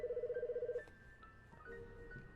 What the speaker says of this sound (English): Ah, there goes the phone.